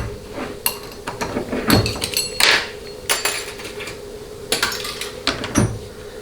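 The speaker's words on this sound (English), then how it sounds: "let's get the snap ring out." Metal parts clink and clatter as a snap ring is pried out of a 4L60E automatic transmission during teardown, with several sharp separate knocks and scrapes spread across the clip and no one talking.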